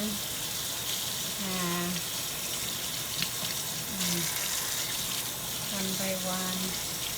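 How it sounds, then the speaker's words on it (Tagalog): Tap water runs into a sink while hands and shrimp are washed, a steady hiss continuing under intermittent speech. "I wash my hand for now."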